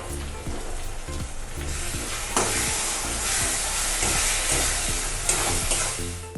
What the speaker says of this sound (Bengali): মশলাটাকে আমি এখন ভাজতে থাকবো পেঁয়াজের সাথে